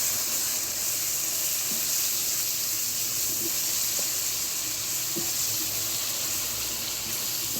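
Three medium tomatoes and three or four green chillies frying with browned onions give a steady, even sizzle close by, with occasional faint clinks over the hiss.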